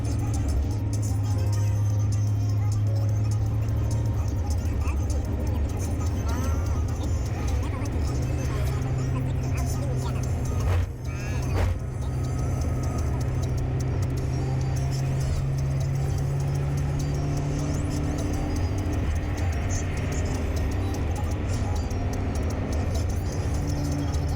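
Road traffic along Waiyaki Way in Nairobi, vehicles rumbling and droning steadily nearby, with a brief louder passing clatter midway and people talking over it throughout.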